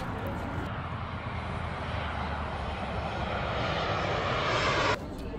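An airplane engine roars steadily outside an airport gate, a loud broadband rush that holds level and then cuts off abruptly near the end.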